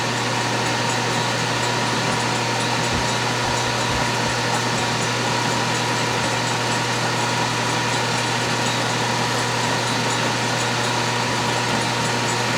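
A metal lathe running in back gears takes a light cut, giving a loud, steady motor hum and whine that holds throughout with no pauses.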